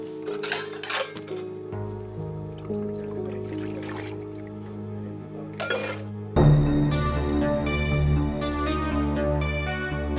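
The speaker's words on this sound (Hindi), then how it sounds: "बर्तन धो ले" Dishes, pots and metal utensils clink and clatter during washing, with sharp scattered knocks early on, then a tonal music bed rising beneath continued faint kitchen clinks.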